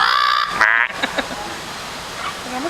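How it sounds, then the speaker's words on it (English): A bird at the Bloedel Conservatory gives a short, harsh, chicken-like squawk, clear and close, then quieter background noise follows. "It almost sounds like he's imitating a chicken."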